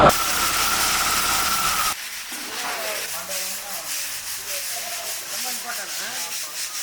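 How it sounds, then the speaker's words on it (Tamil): A machine cracking the skins off roasted peanuts, a loud, close, rubbing hiss that suddenly drops to a quieter steady rasping and rattle. "வேர்க்கடலை மேலே இருக்கிற தோல் டேரெக்டாக மிஷினை வச்சு உடச்சி பருப்பு மட்டும் தனியாக எடுக்கிறாங்க"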